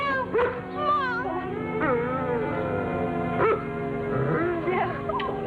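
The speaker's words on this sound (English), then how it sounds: "I thought I heard Lassie barking." Lassie, a dog, barks and whimpers in short yelps and whines spread across a few seconds, at moderate distance, with no talk over the calls.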